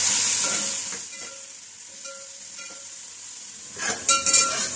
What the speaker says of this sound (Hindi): प्याज को इसके अंदर लाइट गोल्डन होने तक फ्राई कर लेते हैं।